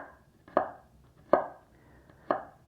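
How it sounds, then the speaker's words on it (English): Vegetables for a pot roast are chopped on a board with three crisp, evenly spaced knife strikes, close and clear against a quiet background. "I'm not really worried about getting this chopped up fine either"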